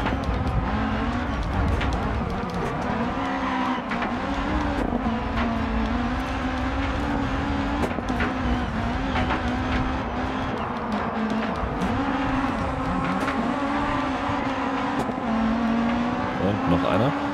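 Rallycross cars race in Dirt 4, several engines droning and revving steadily throughout with loud continuous motor tone, close by, and passing cars swelling under the steady roar.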